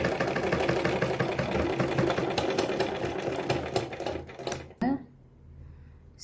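A sewing machine stitches cloth along a pencil line in a tailoring class, giving a dense, continuous mechanical whir close up that stops abruptly near the end, and a voice talks over it.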